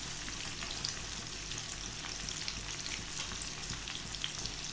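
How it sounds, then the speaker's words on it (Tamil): Pakoda fritters frying in hot oil give a continuous dense crackling sizzle with fine popping bubbles, steady and close throughout, no talking. "நல்லா பொரியட்டும் இப்போ பாருங்கள் நல்லா மொறு மொறுப்பாக பக்கோடா ரெடி"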